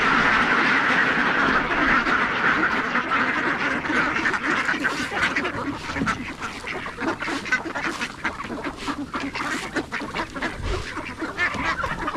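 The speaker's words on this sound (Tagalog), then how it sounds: "Kayo mga alagang itik." Pet ducks quack loudly and close by in a rapid, overlapping chorus that goes on throughout, with some honking calls mixed in.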